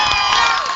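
A loud crowd cheers and shouts at a slopestyle finals, a dense, continuous roar of many voices in a brief burst.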